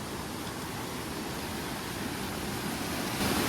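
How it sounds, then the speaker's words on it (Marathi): A fast, flooded river surges in heavy monsoon rain in rural Konkan, a dense, steady roar of rushing water that fills the whole clip and swells slightly near the end, with no voices. "त्यामुळे नदीला नक्की मोठा पूर येणार आहे पाण्याचा स्पीड बघा किती आहे जबरदस्त"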